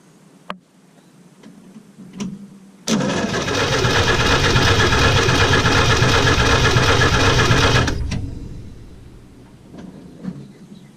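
A Willys truck engine cranks and fires abruptly, then settles into a loud, steady idle for about five seconds before shutting off, with faint clicks and ticks before and after.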